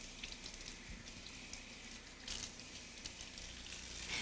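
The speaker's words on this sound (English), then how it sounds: "Finally, rinse the brush." Water runs from a tap over a Kirby G5 vacuum cleaner brush roll being rinsed, a steady faint splashing hiss with a brief louder surge midway and no talking.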